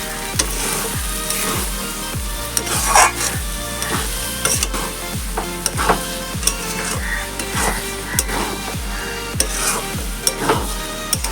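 A spoon scrapes and stirs mung dal and ash gourd curry with spices in a sizzling pan, giving repeated rhythmic scrapes and clinks about once a second over a soft frying hiss, with no voices.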